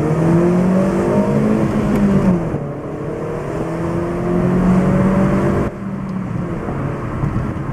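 A manual-transmission car is driven hard, its engine note climbing steadily in pitch, then dropping sharply at each gear change before rising again, loud and close from inside the cabin with no talking.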